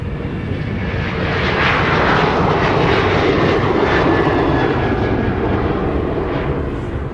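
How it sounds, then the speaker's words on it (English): A Delta Boeing 737-800 jet roars loudly through its takeoff at Minneapolis–St. Paul Airport, a broad, steady engine rumble that swells and holds strong for the whole stretch without any talk. "There's Delta 1302 heading over to Palm Springs. That sounds great today. It's a 737-800."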